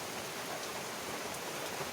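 Steady hiss of rain from a landing typhoon, a dense, even wash of noise with a gusty airy quality, continuous throughout and fairly soft.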